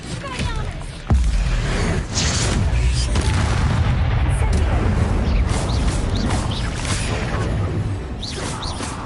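Spell explosions from the Incendio fire spell in Hogwarts Legacy: a sharp boom near the start, then sustained roaring, crackling blasts and whooshes under continuous game noise.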